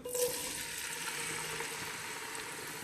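Potato slices drop into hot oil and fry, giving a soft, steady bubbling sizzle after a brief initial splash, faint and continuous at close range with no voices.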